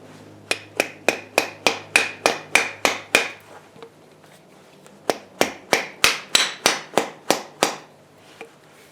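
A hammer taps a rusted universal joint into a vise in two runs of about ten sharp metallic strikes each, evenly paced and close, separated by a short pause.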